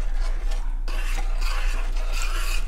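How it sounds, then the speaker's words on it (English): Spatula stirring vanilla ice cream mixture in a bowl, a steady close scraping and rubbing with soft clinks against the bowl, continuous with no pauses and no talk. "I'm using the spatula because I don't want to over whisk it"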